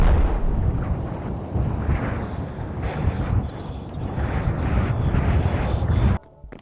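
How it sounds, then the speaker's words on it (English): A big explosion, one of a series in an explosions montage, roars as a loud, sustained rumble with a low booming body for about six seconds before cutting off abruptly, with no voices. "Whoa, that was a big explosion."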